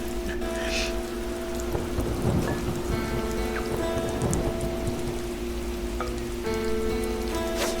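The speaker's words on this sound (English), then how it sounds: "Some more thunderstorm vibes." A thunderstorm with steady rain pattering on surfaces, low thunder rumbling and swelling through the middle, with a constant hum running underneath.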